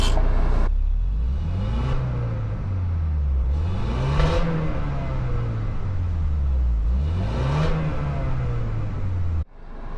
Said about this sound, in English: Let's go ahead and pull out, and I'm gonna do a quick rev. See how it sounds.